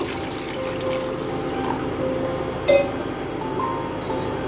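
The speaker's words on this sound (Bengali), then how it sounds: "এবার আমি একটা পাত্রের মধ্যে কিছুটা জল দিয়ে দেব।" Water poured into a pot on a stove, a steady soft splashing flow with one brief metallic clink partway through, close by and without talk.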